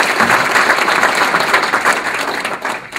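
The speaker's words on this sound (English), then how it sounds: "Give him a round of applause." An audience at a town hall meeting with Secretary Salazar gives a round of applause, close, loud clapping that continues steadily for the whole three seconds.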